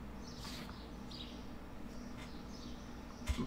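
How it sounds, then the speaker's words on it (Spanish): Faint, scattered bird chirps and short tweets drift at a distance over a low, steady background hum, with no talking. "Escucho más los pajaritos que el juego"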